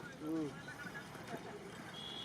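A brief whinny-like call from a horse sounds early on, followed by faint outdoor background noise and distant activity at a horse and bullock-cart race ground in Nagarsul, Yeola.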